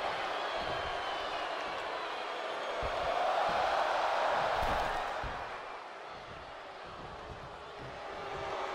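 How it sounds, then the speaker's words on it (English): A large video game crowd at a WWE 2K22 Royal Rumble wrestling match roars steadily, swelling louder for a few seconds in the middle before settling back to a constant cheer. "The sound of this crowd is deafening"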